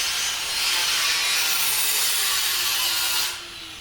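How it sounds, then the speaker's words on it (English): Angle grinder grinding weld tacks off steel on a teardrop trailer build, a steady, close, bright hiss lasting several seconds before tapering off, with no voices. "with a little bit of grinding, we can get those tacks off"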